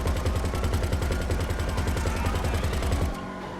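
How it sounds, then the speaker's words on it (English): Rapid automatic gunfire from a car combat video game, loud and close, a dense steady burst of shots that cuts off near the end, leaving a faint tail. "Hopefully that gunfire's not too loud for the video actually."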